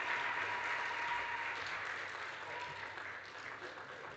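An audience at a launch event at a hotel school applauds a minister's speech, with dense, sustained clapping that fades slightly toward the end.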